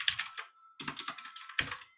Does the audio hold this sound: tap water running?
no